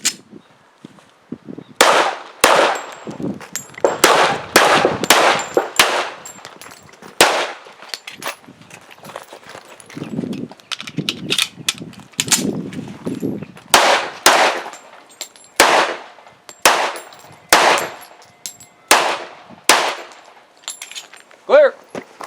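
Colt 1911 pistol fired at a range in a long series of sharp, loud single shots with short gaps between them, each followed by a brief metallic ring, with some quieter handling noise in between.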